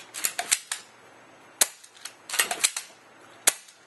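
Sharp snapping shots from an upgraded airsoft sniper rifle ring out one after another, some close together in quick bursts and others spaced apart, with quiet gaps and no voices.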